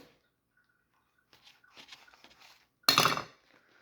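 A knife goes through an egg salad sandwich on a plate, with soft clinks and scrapes building up, then one loud crunching cut near the end in a quiet kitchen.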